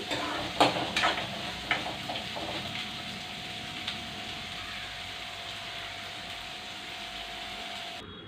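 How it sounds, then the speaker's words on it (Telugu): Sliced onions fry in a pan with a steady, moderate sizzle, a few scraping clicks of stirring at the start, and a faint constant hum underneath. "ఇందులో మాత్రం ఇంకా ఆనియన్స్ ఫ్రై అవ్వాలి"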